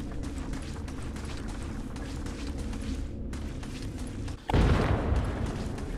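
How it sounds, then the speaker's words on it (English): Explosion in Ghost Recon Advanced Warfighter 2 game: a sudden deep boom bursts over steady background rumble and noise, then lingers as a loud rolling roar. "It seemed like an explosion."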